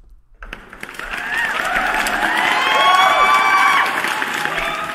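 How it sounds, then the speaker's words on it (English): A stock applause and cheering effect played during a live crypto news stream: a big crowd claps, whoops and shouts, swelling in loudness and holding steady and full. "Let me give you a round of applause."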